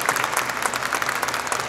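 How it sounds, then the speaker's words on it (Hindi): Audience at a poetry symposium in Gurugram clapping, a dense, even burst of many hands that holds steady without a voice over it. "मैं चाहती हूँ कि आप सब एक बार तालियों से उनका इस्तेमाल"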